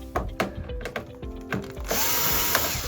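A screw is worked out of the top housing of a Sam4s cash register, with a series of close clicks and ratcheting knocks from a hand tool, then a broader rustling hiss of handling at the end.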